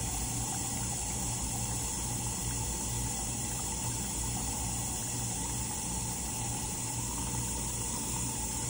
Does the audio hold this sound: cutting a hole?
no